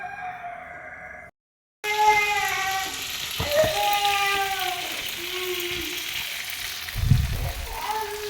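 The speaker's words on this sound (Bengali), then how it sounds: "এদিকে চিংড়ি ভাজাটা বসিয়ে দিয়েছি" Prawns sizzle in a frying pan with a steady hiss at moderate volume, while harmonic calls and faint voices rise over the frying.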